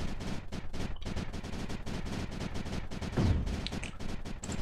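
Turret explosions in the strategy game Creeper World 4, a dense rapid rattle of bursts like continuous gunfire at steady loudness, no voices.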